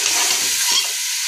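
Mutton sizzles loudly in a pan for a mutton Anaar Kali salan while a spoon stirs and scrapes through it, in a brief, close, steady burst of frying.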